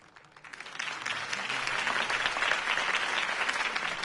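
A crowd applauds Harvey Dent's campaign speech in Batman: The Telltale Series, the clapping swelling quickly from a quieter start into a steady, fairly distant roar that holds to the end.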